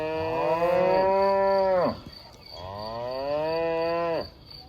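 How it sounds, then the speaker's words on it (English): Grazing cattle in the Swiss countryside near Längenbühl, canton of Bern, give two long, loud, close moos, each drawn out nearly two seconds with a short pause between, over a faint background of crickets. "the grazing cattle"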